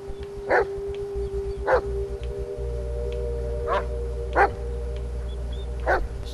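Dog barks in the horror game Blair Witch, five sharp single barks spaced irregularly over a steady low ambient drone and a faint tonal hum, with no talking.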